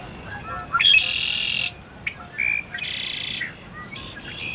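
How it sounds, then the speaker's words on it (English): Red-winged blackbirds call in loud, buzzy bursts, several harsh trilling notes spaced over a few seconds against a faint outdoor background. "These red-winged blackbirds were hollering up a storm."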